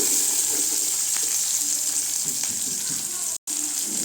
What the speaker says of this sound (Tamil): பூண்டு சேர்த்துக்கலாம் நல்லா வதக்கி விடலாங்க வெங்காயம்லாம் கொஞ்சம் வதங்கட்டும் நல்லா